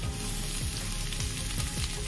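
Sliced capsicum sizzles in a pan of nearly fried onions, a steady close frying hiss with no voices.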